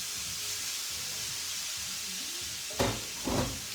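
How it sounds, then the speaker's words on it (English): Jackfruit sizzles steadily in a hot pan with a constant hiss, a few faint murmurs underneath and two louder crackling bursts near the end. "So that sizzle is good."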